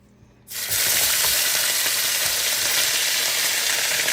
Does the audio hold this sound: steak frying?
yes